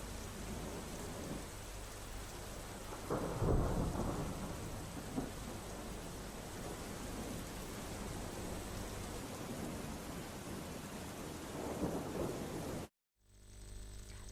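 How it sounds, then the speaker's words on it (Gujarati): Rain falls steadily over a rural area around Vanthali, a continuous soft hiss with low rumbling swells of thunder, then cuts briefly to silence near the end before resuming faintly. "વંથલીમાં વરસાદ વરસી રહ્યો છે"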